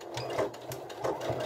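Sewing machine stitching a close edge seam on a Christmas stocking, a quick rhythmic mechanical whir with regular stitch pulses, close and fairly quiet.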